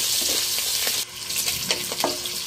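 Pork browning in a pan gives a loud, steady sizzle, broken by scraping stir strokes near the mic.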